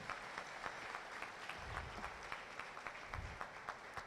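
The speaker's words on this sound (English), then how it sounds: "Shall we please applaud all of them?" An audience at a university summer school programme gives sustained applause, a steady wash of clapping with a few deeper thumps from nearby hands. No one speaks over it.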